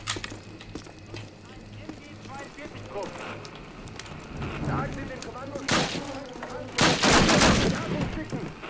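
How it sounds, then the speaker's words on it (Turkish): Bursts of automatic weapon fire ring out in the Call of Duty video game, rising into loud, dense volleys toward the end over busy game ambience, with someone talking throughout. "Üf ne biçim atıyor bu silah ya."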